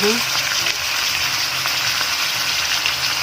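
Soy sauce is poured over pork adobo in a hot pan, and a loud, dense sizzle fills the whole stretch steadily without easing.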